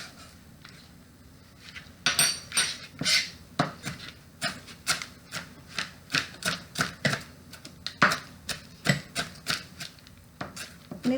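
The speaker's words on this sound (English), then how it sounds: "a really neat tip for chopping it is just wad it up" Knife chopping a wadded-up bunch of cilantro on a cutting board, a steady series of sharp, close taps roughly two per second after a quieter start, with no talking.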